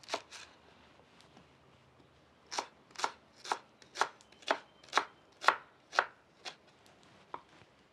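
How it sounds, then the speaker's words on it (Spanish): An onion sliced with a knife, about a dozen crisp, sharp cuts against a board, a few early ones and then a steady run of evenly spaced strokes, close and clear with no talking. "También la cebolla la vamos a rebanar."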